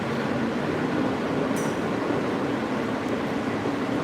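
A train rumbles steadily on its journey, a constant broad roar of wheels and carriage noise heard from inside, with faint high squeaks at moments and no talk.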